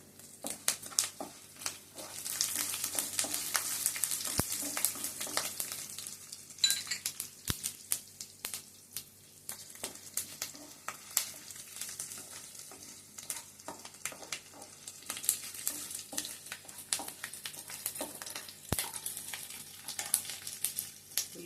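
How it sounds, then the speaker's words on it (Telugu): Onions and green chillies fry in oil with a soft, close sizzle, mixed with light crackling and occasional clinks of a utensil against the pan. "ఉల్లిపాయలు కూడా ఒక సైడ్కి వేస్తే బాగా నూనెలో వేగుతాయి."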